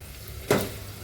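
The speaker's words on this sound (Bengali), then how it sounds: "তো আলুটা আগে কষিয়ে নিচ্ছি। এখন দিয়ে দিব তরি।" Potatoes sauté in a pan before pointed gourd is added for a rohu fish curry. A low steady sizzle swells with one brief stirring burst midway, then settles back; no talking.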